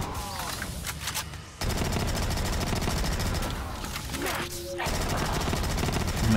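Dense, sustained gunfire in Black Ops III Custom Zombies on a Pokemon Stadium challenge map, loud rapid bursts running almost continuously with a brief lull, while a voice talks over it.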